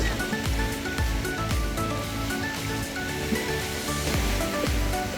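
Sea waves breaking on a beach in the UK, a continuous loud wash of surf with rolling crashes close by and no voices.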